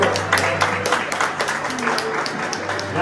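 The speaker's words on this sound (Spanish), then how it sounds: "Un aplauso." Applause at a church baptism ceremony, a crowd clapping steadily for about three seconds over a low hum, with speech around it.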